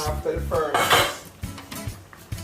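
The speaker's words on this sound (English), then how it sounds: "I'm now going to cover the pot, and I'm going to leave my pork to slow cook" A metal cooking pot being covered with its lid while brown stew pork slow cooks, a few sharp clanks and clinks of metal on metal, close and fairly loud, with brief scraping between them.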